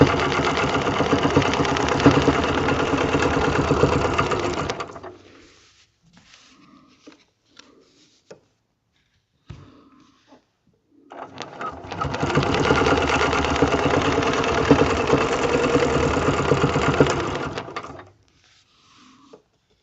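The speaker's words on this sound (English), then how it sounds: "I'm going to just stitch till I get to the edge of the fabric" A sewing machine stitches a log cabin quilt block in two steady bursts of about five seconds each, with a quiet pause between them holding only small handling clicks.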